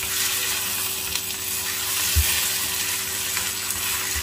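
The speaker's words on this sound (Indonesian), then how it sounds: "ini tumis teman-teman sampai benar-benar bumbunya matang supaya tidak bau bumbu mentah" Spice paste for soto ayam sautéing in a pan, a steady close sizzle and hiss with faint scraping, continuing throughout without voices.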